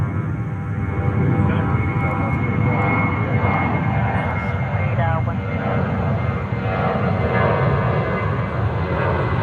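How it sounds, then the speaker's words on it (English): A JetBlue Airbus A320 jet takes off at JFK as a broad, steady engine roar at a distance, with a voice talking over it throughout. "All right, JetBlue 320. Takeoff is underway."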